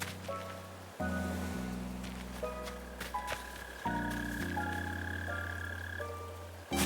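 Mole crickets in Animal Crossing: New Horizons on Spider Island give off a steady, low croaking chirr that runs through the whole stretch, layered with sustained game tones and no talking.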